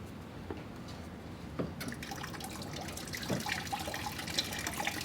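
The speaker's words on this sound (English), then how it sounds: "So let's get it flushed out." Coolant is flushed out of a car cooling system, draining and trickling in a quiet, continuous flow with occasional drips and splashes.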